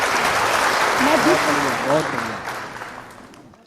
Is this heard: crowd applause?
yes